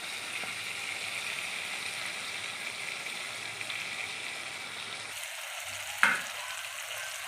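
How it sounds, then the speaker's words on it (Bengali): Chicken curry frying in oil sizzles steadily in a pan, then water is poured in and the sizzle drops away suddenly, followed by a brief splash and a quieter simmer. "এবার আমি জল দিয়ে দেবো।"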